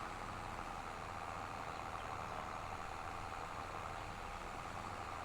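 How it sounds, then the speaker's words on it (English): A tractor engine drones steadily as it pulls up a hill in Farming Simulator 25, a constant low rumble with no breaks. "Come on, tractor, you can do it. Pull that hill."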